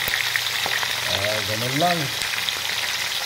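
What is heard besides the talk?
food frying in a pan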